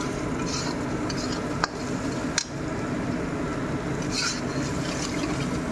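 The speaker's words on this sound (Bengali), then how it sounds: "দিয়ে এখন এটাকে ভালো করে মিক্সড করে নেব" Fried spices with salt and turmeric stirred steadily in a pan while preparing a kabuli chana breakfast: a continuous close scraping sizzle broken by two sharp clinks of the spoon against the metal.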